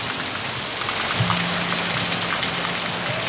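Heavy Sunday rain drums steadily on surfaces in Parelhas, in the Rio Grande do Norte sertão, forming a thick, unbroken hiss with a faint low hum beneath it and no voices.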